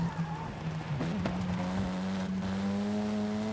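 Front-wheel-drive race car in Forza Horizon, its engine holding a steady droning note, with brief tire squeal and shifting revs as it runs a course, loud and close.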